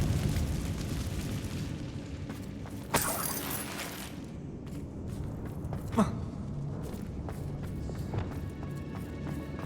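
A Confringo spell explosion in the Hogwarts Legacy video game, a sharp burst around the three-second mark and a smaller blast later, set against low rumbling game ambience.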